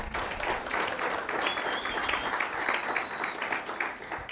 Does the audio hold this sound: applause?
yes